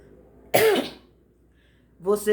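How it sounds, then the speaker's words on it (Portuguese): One short, harsh cough or throat clear, close and loud, followed after a pause by a voice beginning to speak. "tô com uma tossinha esquisita"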